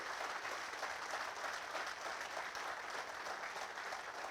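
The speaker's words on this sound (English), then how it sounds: "Please give everyone a round of applause." An audience at a university homecoming event applauding in steady, dense clapping that holds even and unbroken throughout, sounding somewhat distant.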